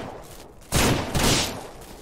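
A loud burst of gunfire from a hunting rifle in the Ranch Simulator video game, two close overlapping volleys about a second long each, with no talk over them.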